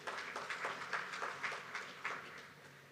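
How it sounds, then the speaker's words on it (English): An audience at a campaign launch applauds a speaker with a steady patter of clapping that swells in uneven waves, moderately loud, for about three seconds. "Another round of applause for her"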